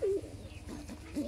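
A Kalanka pigeon coos softly at close range, giving a low, breathy call at the start and another near the end over a quiet background.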